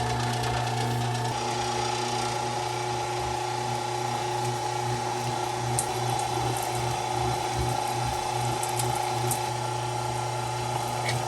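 An electric meat grinder runs steadily through firm pork, with a constant motor drone and a grinding rattle that hold at an even level for the whole stretch.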